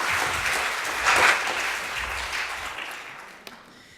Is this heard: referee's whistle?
no